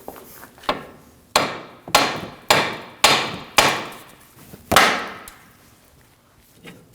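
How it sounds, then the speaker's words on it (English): A hammer strikes the steering knuckle of a 2013-2015 Subaru XV Crosstrek to free the outer tie rod, making seven sharp, loud metallic blows in a fairly steady rhythm. The blows sound close, with no talking. "we're going to use a hammer and hit the knuckle right on the front here"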